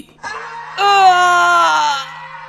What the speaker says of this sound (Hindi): तभी उसको एक दर्दनाक चीख सुनाई दी